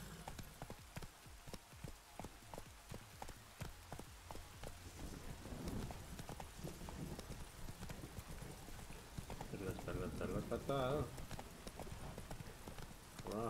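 Horse hooves clip-clopping in The Witcher 3 video game, a steady trotting rhythm of distinct hoofbeats that later blends with rustling and game ambience, with someone talking over it.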